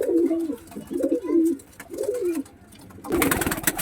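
A Pakistani high-flying red-tailed pigeon, in breeding condition, coos close by in four rhythmic rolling phrases, followed by a brief louder rustling burst.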